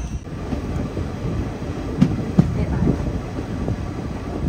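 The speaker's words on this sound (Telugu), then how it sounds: "బండి సికింద్రాబాద్ లోని ప్లాట్ఫామ్ నెంబర్ 7 మీదకి అయితే వచ్చింది" The Delta Express rolls into platform 7 at Secunderabad station with a low, steady rumble and a few sharp knocks from the wheels, while voices murmur faintly nearby.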